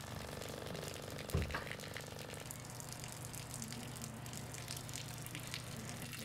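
Water flowing while a generator drives it at 24 Hz, a steady broadband rush with a low hum running underneath and a brief knock early on.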